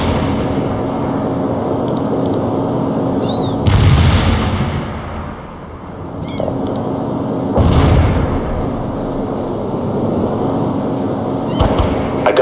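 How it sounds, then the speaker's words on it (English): Mortar barrage explosions in the World in Conflict video game land as two heavy, booming blasts several seconds apart, each rolling out over a constant rumbling battlefield background. "Mortar barrage is on the way"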